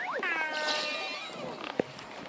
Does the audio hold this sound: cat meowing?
yes